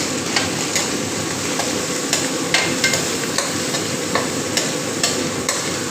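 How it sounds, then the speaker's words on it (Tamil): A spoon stirs mutton curry ingredients, including chana dal, in a hot pan, with regular close scraping knocks against the metal roughly every half second over a steady frying sizzle. "எல்லாம் கிண்டணும்."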